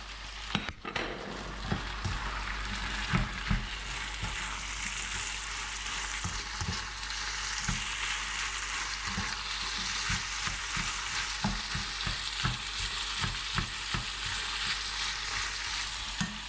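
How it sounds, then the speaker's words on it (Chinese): Diced blanched carrots and peanuts stir-fried over high heat in a wok for Kung Pao chicken, a loud continuous sizzle broken by frequent scraping clacks of the spatula, close and steady with no talk. "大火翻炒3、4分钟以后"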